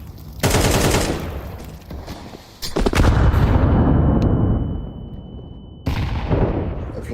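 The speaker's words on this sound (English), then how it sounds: "Throwing flashbang." Several loud blasts from a Counter-Strike 2 match ring out: a sharp detonation, then a heavier boom that decays into a rumble and a high ringing tone, and one more burst near the end.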